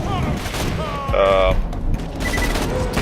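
Video game weapon fire aimed at a Pyro, with a burst of rapid shots and booms up close, mixed with a voice talking over it.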